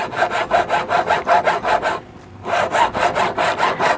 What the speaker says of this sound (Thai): ทำการเริ่มทำการเลื่อยนะครับ เลื่อนลงไปนะครับ